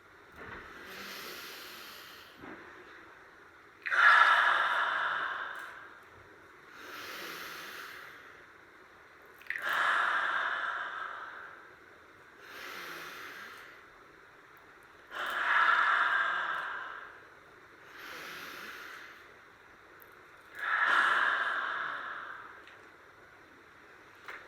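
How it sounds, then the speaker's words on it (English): Slow, deep breathing in and out during yoga practice, about five unhurried, even breath cycles spaced several seconds apart, close and soft with hushed gaps between them. "let's breathe together first"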